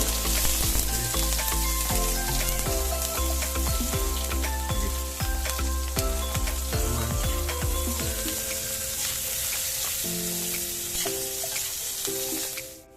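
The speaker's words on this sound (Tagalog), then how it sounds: "Kung man mapainit nimo ang mantika guys, ilunod dayon nimo ang ahos, sibuyas, dayon katong luya." Garlic, onion and ginger fry steadily in hot oil, a loud continuous sizzle with occasional stirring clatter underneath, lasting throughout with no talking.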